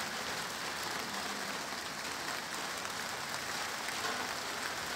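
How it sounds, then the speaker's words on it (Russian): Heavy rain shower at the seaside in Lazarevskoye pours down in a dense, steady hiss, loud and unbroken with no voices over it. "сейчас идет ливень"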